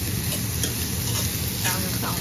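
Onions sauté in butter in a skillet, with a continuous close sizzle and a low rumble beneath, steady in loudness throughout.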